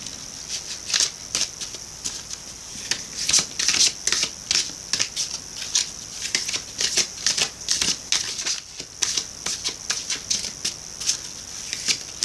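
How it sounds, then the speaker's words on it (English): Rapid riffling of playing cards in repeated bursts, crisp and close, with short pauses between shuffles and no voices. "One more shuffle for my Pisces friends, and then I'm going to cut the deck."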